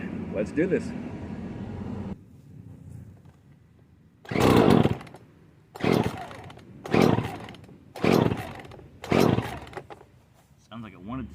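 A Poulan Pro chainsaw, freshly fitted with a new carburetor and fuel system parts and idle for years, is pull-started at half choke: five loud, rough engine bursts, each sputtering out, after brief talk.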